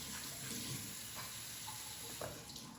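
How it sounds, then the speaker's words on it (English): Hands are washed under a running kitchen tap while cooking chicken, a steady close splashing stream with small shifts as the hands move through the water. "Wash my hand."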